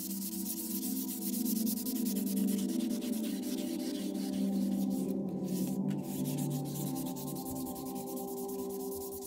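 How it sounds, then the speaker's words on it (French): Paint is being sanded off a gravel bicycle frame in a steady, continuous abrasive rubbing that stays close and even for about nine seconds, with two brief dropouts near the middle. "la première étape, c'est de poncer la peinture"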